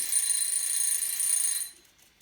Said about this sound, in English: And that is our timer to tell us that our cakes are done.